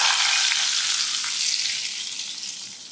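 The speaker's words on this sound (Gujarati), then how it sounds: "તૈયાર કરેલા વઘારને આપણે સાંભારમાં ઉમેરી દેવાનો." A hot tempering of cumin seeds and dried red chilli sizzles loudly as it is poured into a vrat-style sambar, a steady hissing crackle that fades slightly before cutting off.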